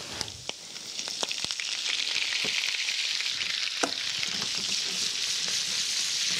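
Butter browns in a pan with parsley and lemon juice, giving a steady, bright frying sizzle with occasional sharp pops and utensil clicks, close and continuous.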